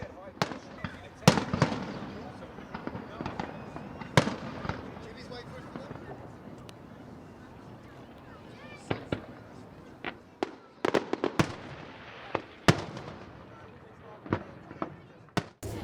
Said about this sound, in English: the traditional fireworks that lit up the sky once again this year